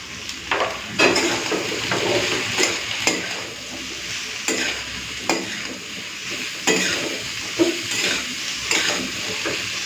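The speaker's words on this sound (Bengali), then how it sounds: "এই আলু কুন্দরিগুলোকে না একটু ভালো করে ভেজে নিতে হবে" Potatoes and ivy gourd fry uncovered in a pan over high heat, salt and turmeric added, giving a steady sizzle punctuated by irregular spatula scrapes and knocks against the pan, close by.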